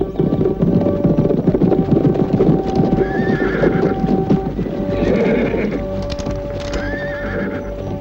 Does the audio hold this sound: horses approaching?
yes